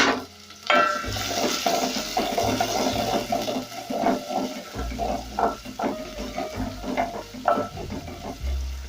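Chopped onions frying in about two tablespoons of hot cooking oil in a pan, a steady close sizzle with intermittent stirring scrapes and crackles throughout.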